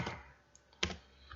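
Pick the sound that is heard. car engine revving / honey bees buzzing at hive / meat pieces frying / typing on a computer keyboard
typing on a computer keyboard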